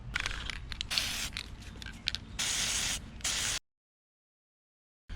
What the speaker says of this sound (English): Now we're gonna be using this to spray and hold the wrap together.